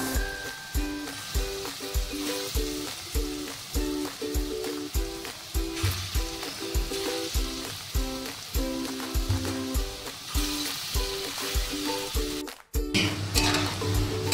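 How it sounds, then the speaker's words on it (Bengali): Small chana dal fritters sizzle in hot oil in a pan, a steady crackling fry with an even bubbling rhythm throughout and a brief break near the end, no talk. "এবার আমি বড়াগুলো ভেজে নেব ছোট্ট ছোট্ট করে।"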